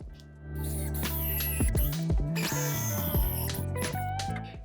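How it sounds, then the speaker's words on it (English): Power drill driving chunky screws into pilot holes while restoring a vintage wooden cocktail cabinet, several close, loud bursts of whirring motor that rise and stop in quick succession. "And now I can get to drilling the pilot holes and adding"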